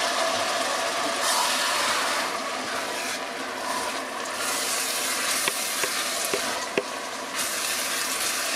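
Greek white wine is poured into hot oil in a pan and sizzles loudly, a dense steady hiss with a few small pops and scrapes near the end, close and with no talking.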